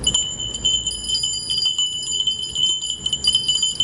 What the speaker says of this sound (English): Here's one little set of bells.